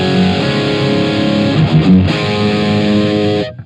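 Electric guitar through the distortion section of a Gokko AXE MX300 multi-effects unit with gain at 9 o'clock, a loud, gritty sustained chord with a brief change midway before it cuts off, no talking.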